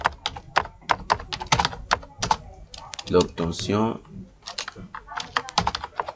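Rapid clicking of keys as text is typed on a computer keyboard into a word processor, arriving in quick uneven bursts and close by, with someone speaking over a stretch in the middle.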